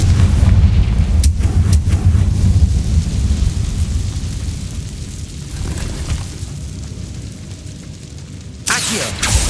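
Booming fiery blasts from the Confringo spell in Hogwarts Legacy, a heavy rumbling explosion up front that fades out, then a sharp fresh burst near the end.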